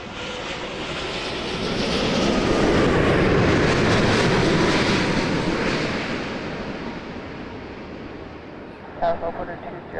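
An airliner takes off from runway 05 at Toronto Pearson Airport at night, a loud broad engine roar swelling to a peak and slowly easing as it climbs away.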